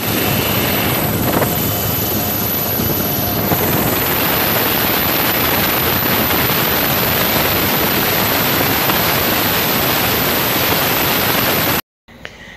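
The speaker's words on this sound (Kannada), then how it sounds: "ಹೆಲಿಕಾಪ್ಟರ್ನಿಂದಲೇ ಆಹಾರ ಎಸೆಯುವ ದೃಶ್ಯ ಕಂಡು ಬಂತು" A navy helicopter flies over a flood-stricken coastal area to drop food, its rotor and engine making a loud, steady broadband roar that fills the scene before cutting off abruptly near the end.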